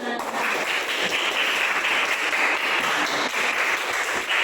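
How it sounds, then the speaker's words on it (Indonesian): A class of students claps together in a classroom, a continuous, fairly loud patter of many hands carrying on evenly for several seconds. "Kita tepuk tangan untuk kita semua."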